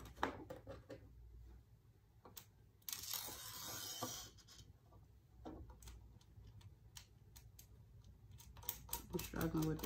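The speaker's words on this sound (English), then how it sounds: "I'm struggling with these screws here." Small screws being driven to mount the motor section of a Keria epoxy cup turner onto its plate: faint, scattered ticks and clicks, with a brief louder scraping burst partway through.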